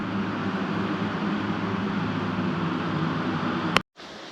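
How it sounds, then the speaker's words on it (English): Large air conditioning units cooling communications equipment hum with a steady broadband whoosh and low drone, ending in a sharp click followed by a brief cutoff. "They are cranking out some huge ACs to keep all this communications equipment cold."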